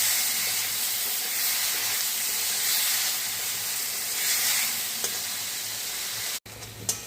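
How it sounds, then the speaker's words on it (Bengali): Onion-garlic paste with turmeric and salt fries in a pan, giving a steady, loud sizzle and hiss throughout with no talking, before a brief break near the end. "পেঁয়াজ রসুন বাটা এর মধ্যে ঢেলে দেব। তারপরে স্বাদ মতো হলুদ গুঁড়ো, লবণ দিয়ে এটাকে কষিয়ে নেব।"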